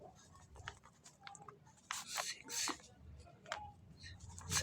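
Numbers written by hand with a pen on paper, faint scratchy strokes coming in short bursts close to the microphone, with quiet room background.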